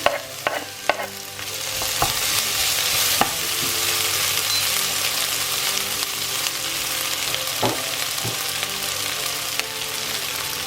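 Onion and ginger fry in a pan, a steady broadband sizzle running the whole time, with a few sharp clicks and scrapes of stirring rising above it at close range.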